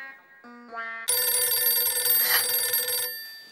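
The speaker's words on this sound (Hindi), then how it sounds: "बावरी को फोन लगाता हूँ।" An electronic telephone ring starts with a few short tonal beeps, then swells into a loud, bright, sustained ringing tone that cuts off near the end.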